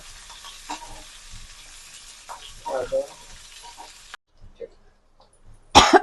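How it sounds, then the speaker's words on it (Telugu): Green chillies and onions frying in a pan, a soft steady sizzle with occasional stirring scrapes that drops out partway, followed by a sharp burst near the end. "ఇది పచ్చిమిర్చి ఆనియన్స్ ఇవి వచ్చి కొంచెం గోల్డెన్ బ్రౌన్ అక్కర్లేదు మామూలుగా మగ్గితే సరిపోద్దులేండి"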